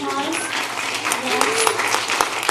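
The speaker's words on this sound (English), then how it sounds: "Give them a round of applause." A short burst of audience clapping at the GLPA 2016 conference business meeting, welcoming new members, mixed with a speaker's voice over the room.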